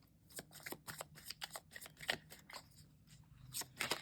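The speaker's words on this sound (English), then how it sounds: "Now let's draw a couple of cards to see what is your advice for the coming weeks." Tarot cards shuffled by hand in a rapid run of crisp riffling bursts, close and clear with no talking.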